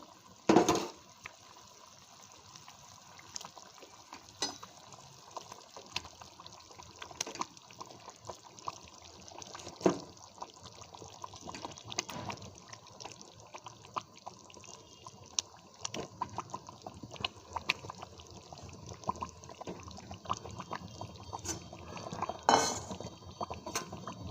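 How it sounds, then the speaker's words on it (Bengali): Curry gravy for doi katla bubbles in a pan as fried fish pieces go in, with soft simmering and scattered clinks and knocks of utensils against the pot, quiet and close, with sharper clatters now and then. "ঝোলটা ফুটতে শুরু করেছে আমি ভেজে রাখা মাছগুলো দিয়ে দেবো"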